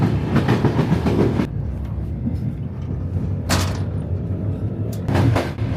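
Inside the last compartment of a European night train, a loud, steady rumble runs throughout, with bursts of clattering wheel-on-rail noise rising and fading.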